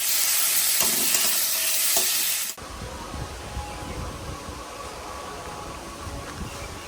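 Spices sizzle and crackle loudly in hot oil with garlic, ginger, coriander, cumin, Kashmiri chili, turmeric, tomato and green chili, then settle to a quieter, steady frying hiss with soft stirring scrapes.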